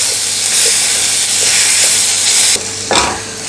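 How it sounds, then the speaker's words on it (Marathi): Onion, tomato and raw mango sautéing in a pan, a loud, close, steady sizzle and hiss with a few stirring scrapes, dropping briefly before one last burst of steam near the end. "आता हे छान मऊ होईपर्यंत आपण परतून घेऊया."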